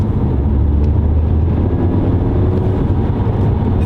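Audi A5 Sportback TFSI Quattro with an S-Tronic dual-clutch transmission driving, a loud, steady low engine and road drone heard from inside the car as it shifts up through the gears.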